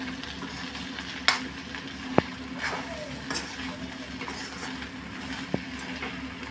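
Food frying in oil in a pan, a soft steady sizzle with occasional louder pops and clinks of stirring, fairly quiet and close.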